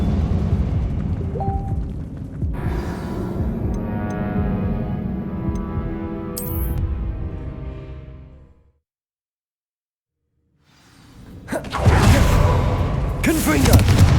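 Confringo blasting spell in the Hogwarts Legacy video game, set inside an abandoned mine, bursting with a loud rumbling boom that sustains, cuts to silence, then erupts again in a second heavy crackling blast.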